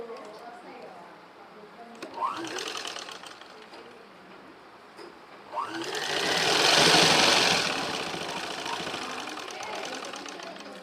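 A sewing machine stitches a double-folded fabric hem on a small child's dress in short whirring runs that build to a loud, fast stretch, with a voice talking over it.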